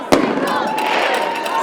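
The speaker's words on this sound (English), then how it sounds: "Fireworks 2 weeks in a row." Fireworks at a high school football game: a sharp bang followed by crackling bursts and a whistling trail, loud and near, with crowd noise underneath.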